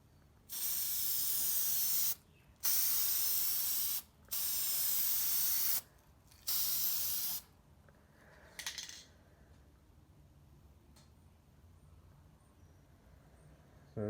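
A spray gun lays the fifth coat of paint on a 1989 Nissan Patrol: four loud, sharp hissing bursts of one to two seconds each with brief gaps, then a quieter, fading spurt.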